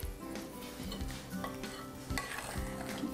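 A spoon stirs a mixture of strawberries for a fermented-food recipe in a home kitchen, a steady scraping and clinking against the bowl with soft wet churning, close and continuous.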